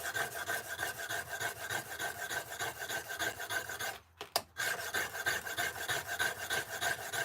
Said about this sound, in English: We'll sharpen that chisel up.